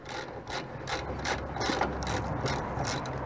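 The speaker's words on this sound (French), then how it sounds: "Donc c'est des boulons un peu plus gros, on est sur du 17. Donc tout simplement, on dévisse." Rhythmic ratchet clicking as a wrench loosens 17 mm brake caliper bracket bolts on a Toyota RAV4 during front brake disc and pad replacement, a steady run of close, even ratchet strokes with no talk.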